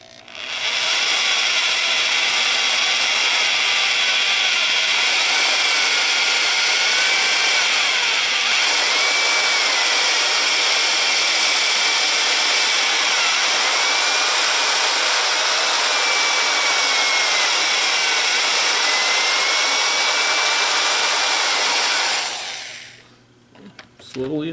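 A drill bores into cast iron during a crack repair with cutting lubricant applied, producing a loud continuous whining grind that holds steady for over twenty seconds before winding down and stopping.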